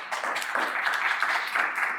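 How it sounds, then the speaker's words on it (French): An audience at a Pop the Balloon dating game show claps for a participant, producing a steady, dense patter of applause at moderate volume with no clear gaps. "Applaudissez-le s'il vous plaît."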